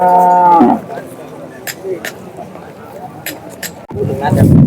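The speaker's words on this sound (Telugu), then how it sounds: "ఇవంతా వాళ్ళవే ఎద్దులు" A bull lets out a loud, close low at a bull fair, then an outdoor crowd murmurs before a second deep bellow starts at the end.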